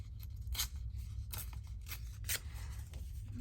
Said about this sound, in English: I need to tear off the straightish edge.